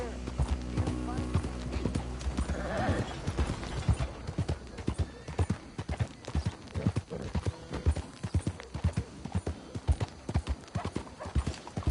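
Horse hooves clip-clopping in Red Dead Redemption 2, a steady rhythmic run of close hoofbeats over many seconds, with a neigh and a voice talking over the start.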